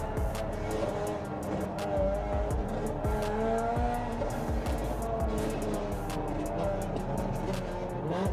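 Cars with naturally aspirated 1-litre engines racing and skidding through a South African street scene, heard as continuous revving engine whine and squealing tyres with engine pitch rising and falling, fairly loud and constant throughout.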